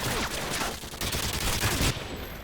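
Continuous rapid UMP submachine gun fire in Call of Duty Modern Warfare 2, close and steady over a couple of seconds, with faint background game noise.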